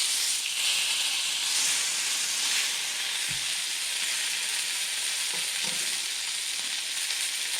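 Meat rolls for avocado braciola searing in a hot pan, with a loud, steady sizzle and hiss throughout and a few soft knocks from the pan.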